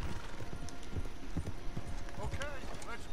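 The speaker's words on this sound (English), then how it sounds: "Okay, let's dismount here. We won't get the horses down this path." Horse hooves clip-clopping in the video game Red Dead Redemption 2, a close, steady walking rhythm on a forest path with a short whinny-like sound near the end and someone talking over it.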